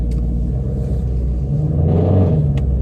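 A deep, loud engine rumble from an Audi, steady and throaty, swelling slightly louder toward the end with a brief higher-pitched rev.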